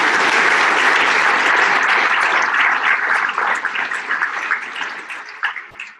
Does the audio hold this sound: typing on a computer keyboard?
no